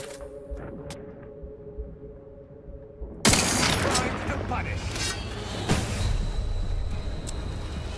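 Turret gunfire in the video game The Outer Worlds 2 erupts suddenly after a quiet hum, a dense continuous barrage of shots and impacts that stays loud to the end.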